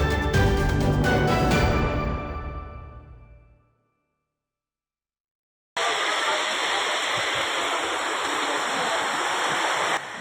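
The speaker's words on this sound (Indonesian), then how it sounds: "Arus deras banjir menghanyutkan 3 rumah dan beberapa rumah papan roboh." Music fades into silence, and then the floodwater of an overflowing river in West Lampung, Indonesia, sweeps through villages as a loud, continuous, broadband roar of rushing water.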